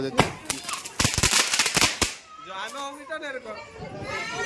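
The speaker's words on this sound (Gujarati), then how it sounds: "દિવાળી ફટાકડા ફોડે છે" Firecrackers burst at a celebration of the Ram temple consecration on 22 January 2024: a rapid string of loud, sharp cracks for about two seconds, followed by people chattering and calling out nearby.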